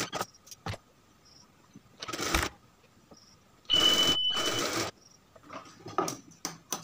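A sewing machine stitches the shoulder seam of a kameez in two short runs, each a loud, dense whir lasting about a second, set among quieter clicks and fabric handling close by.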